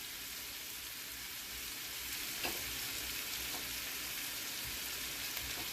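Garlic and butter sizzling in olive oil for Italian sausage with peppers and onions, a dense steady hiss with a couple of faint clicks from the pan, close and even throughout, no voices.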